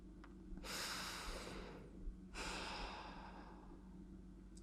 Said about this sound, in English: Take a full breath in and out.